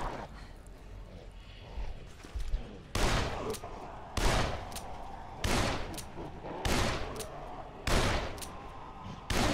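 Shotgun blasts fired at zombies in the video game Dead Island, about seven loud, sharp booms spaced roughly a second apart over a low, steady background of game ambience.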